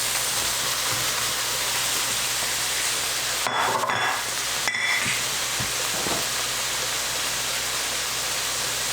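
Shallot and broccoli cooking in a pan, a steady hiss of sizzling and frying with a couple of brief stirring clanks partway through.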